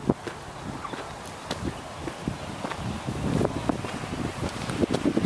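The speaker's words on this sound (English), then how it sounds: "Wind." Wind buffets an outdoor microphone on a motorcycle ride along a road, a continuous rough rumble with gusty surges and scattered rustling bumps.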